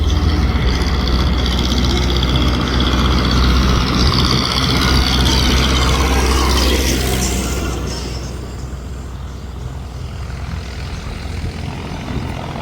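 A big-wheeled tractor hauling a heavy load rumbles past with a deep, steady engine drone, loud and close at first, then fading as it moves away.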